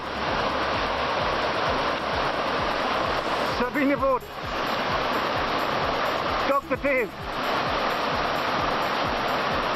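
Steady broadband rush of a large river flowing through a ravine in Malaysian rainforest, continuous and fairly loud throughout, with a voice talking briefly over it twice.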